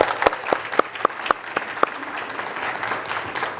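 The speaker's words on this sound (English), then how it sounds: "I want to give a big applause to our team for that." At a school district board workshop, a few sharp, loud claps sound close by at a regular beat, joined by a thinner spread of applause from a small audience that trails off softly.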